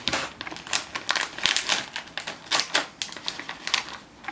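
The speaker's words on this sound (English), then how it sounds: "So, let's rip it open." A crinkly snack packet is ripped open, giving a rapid series of close, loud crackling tears and plastic crinkles in an uneven rhythm, with no voices.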